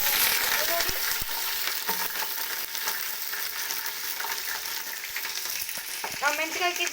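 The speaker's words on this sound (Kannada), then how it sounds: "ಉಂಡೆ ಮೆಣಸು ಹಾಕಿದ್ದಾರೆ. ಒಂದು ಚಂದ ಫ್ರೈ ಮಾಡಬೇಕು." Whole peppercorns frying in a pan give off a steady sizzle, broken by a few utensil knocks and clinks early on and a brief burst of voice-like sound near the end.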